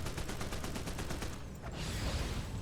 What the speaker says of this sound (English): Let's use the machine gun.